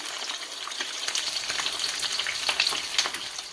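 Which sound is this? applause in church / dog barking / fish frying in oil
fish frying in oil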